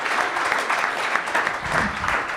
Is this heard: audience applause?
yes